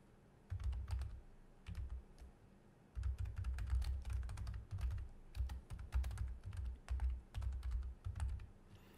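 A blog post title being typed on a computer keyboard: close, quiet bursts of rapid key presses separated by short pauses, with no talking.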